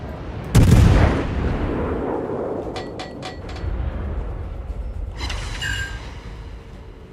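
Warship main guns fire in a World of Warships naval battle, opening with one loud, heavy boom that rolls off into a long low rumble, while a few fainter clicks and tones follow.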